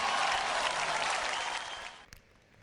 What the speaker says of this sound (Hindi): एक बार जोरदार तालियां इन सभी के लिए।